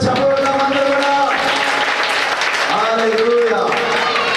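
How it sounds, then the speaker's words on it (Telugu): Children clap together for Jesus in a loud burst of applause while an adult voice speaks over the clapping. "Clap for Jesus."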